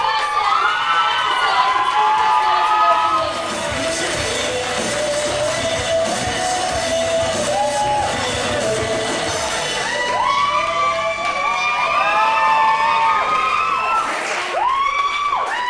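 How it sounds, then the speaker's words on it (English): An audience at a college presentation evening in a sports hall cheers and shouts loudly in a sustained roar, with whoops and high-pitched yells rising again toward the end. "Can we give a massive round of applause for"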